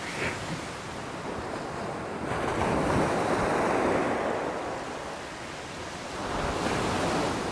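Large ocean waves from a ferry's wake roll in and wash back with a deep, continuous roar and undertow, swelling in surges; wind buffets the microphone throughout, no talking.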